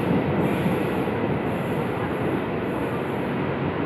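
A commuter train rumbles steadily beside platform 2 of Juanda station at night on the Bogor line, a loud, even, continuous roar that stays close throughout, with no talking.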